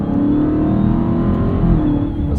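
A 2023 Dodge Charger SRT Hellcat with 717 horsepower accelerates hard, its engine a loud, steady, close roar with no talking over it.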